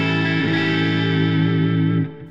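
A Worship Strat electric guitar played through its humbucker pickup rings out with a loud, sustained, distorted chord that carries chorus-like shimmer, then cuts off and fades near the end.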